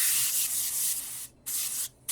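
Hobby airbrush with brass fittings spraying a fine adjustable pattern, a loud close hiss delivered in steady bursts that cut off twice briefly before resuming.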